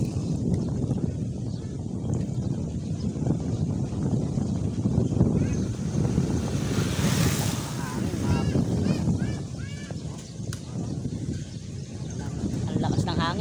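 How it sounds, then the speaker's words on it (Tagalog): Strong gusting wind roars across the microphone at a riverside fishing spot in Sta. Lucia, Calumpit, Bulacan, a dense low rumble lasting throughout with faint water and bird sounds, while people talk over it. "Ang lakas ng hangin"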